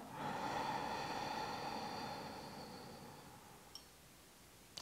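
A single deep breath drawn in through the nose during a Tai Chi breathing exercise, a steady airy hiss lasting about three seconds that fades out, close and alone, followed by a couple of faint clicks.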